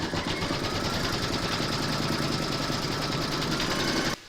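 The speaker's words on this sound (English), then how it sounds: "Pop your hoop into your machine and stitch round number 2, and that's going to secure your batting to the hoop." A home embroidery machine stitches batting onto its hoop in a steady, fast mechanical whir with a rapid needle chatter, close and continuous, then stops abruptly near the end.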